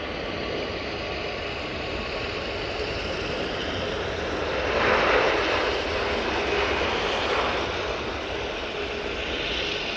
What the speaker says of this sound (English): And there goes the Jet2